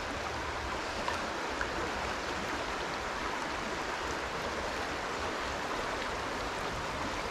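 Fast-flowing water of a stocked trout stream rushes steadily and close, a dense broadband wash with no pauses or voices.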